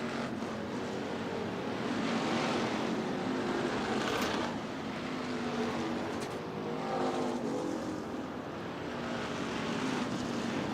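IMCA hobby stock race cars roar around a dirt track at Central Arizona Raceway after the green flag, a steady blended engine drone with gentle swells as the pack passes at a moderate distance.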